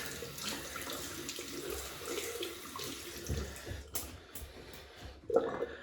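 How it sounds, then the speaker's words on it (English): Tap water runs steadily and splashes into a sink as a synthetic shaving brush is wetted, ending with a brief clatter. "so we'll wet the brush"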